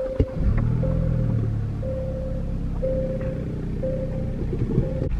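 A 2023 Genesis car's engine turns over and settles into a steady, close idle rumble, with a sustained tonal hum from the cabin running through the whole stretch.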